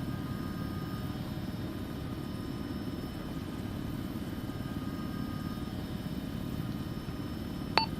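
A steady, moderately loud engine drone from an aircraft on the runway in ArmA 3, a constant low rumble and whine holding evenly throughout, with a brief click right at the end and no voices.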